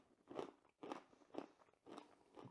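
Crispy jacket potato skin dipped in gravy being bitten and chewed close to the mic, five loud crunchy bites in a steady rhythm.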